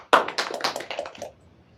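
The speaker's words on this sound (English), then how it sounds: "Let's applaud." A short burst of applause in a lecture room: a small group claps for about a second in quick, uneven claps that taper off into quiet.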